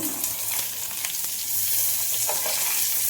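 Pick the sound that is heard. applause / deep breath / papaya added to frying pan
papaya added to frying pan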